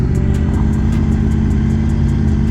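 Triumph Tiger motorcycle engine fitted with a Viking exhaust, a loud, close, continuous throbbing drone holding steady revs throughout, alone with no talk.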